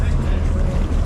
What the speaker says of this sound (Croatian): Motori se pale,